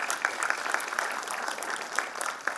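An audience at a talk by a pharmacist claps steadily, a dense patter of many hands at moderate distance, with no voices over it.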